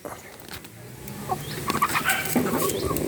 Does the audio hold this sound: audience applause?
no